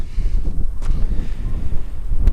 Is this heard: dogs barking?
no